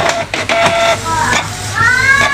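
Canon G2810 inkjet printer running a nozzle check page, giving whirring motor sweeps and rising mechanical tones with clicks, close and steady, with a voice speaking over parts of it.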